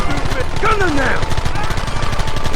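Sustained gunfire rattles through a Red Dead Redemption shootout, steady bursts mixed with in-game voices and swooping effects throughout.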